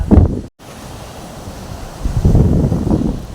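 Strong wind buffets the microphone while sea waves surge and wash in at Harihareshwar beach, the roar building again after a brief gap.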